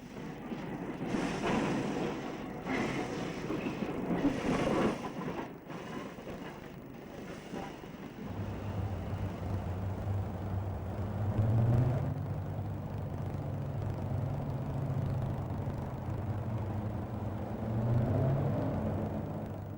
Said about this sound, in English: One of York's many B-16s reversing round to collect its southbound train from York Yards.